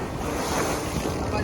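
Stiff sea breeze on a sailboat at sea off the Atlantic coast, a loud, steady rush of wind and water close to the microphone with no talk.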